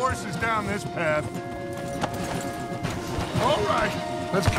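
Horses' hooves clip-clop steadily on a path in the video game Red Dead Redemption 2, under continuous character dialogue and background game sound.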